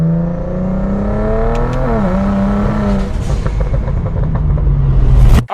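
BMW race car engine revving and running rough, a loud close drone that climbs, dips and wavers unevenly before a late surge and abrupt cut.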